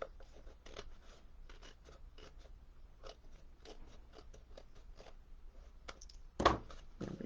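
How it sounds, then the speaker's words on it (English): Scissors trimming a paper craft piece, a steady series of small crisp snips close by and quiet, ending in one louder sharp cut. "We'll trim that so you don't see the black."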